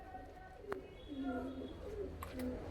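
A pigeon from a Punjabi Malwai chatri flying breed coos in a few soft, low rolling phrases, faint and close, with murmured talk in the background.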